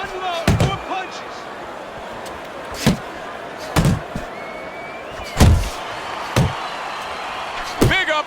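Boxing punches in Fight Night Champion, sharp heavy thuds landing one at a time and in quick pairs, about seven impacts spread across the clip, loud and close over crowd ambience and talking commentators.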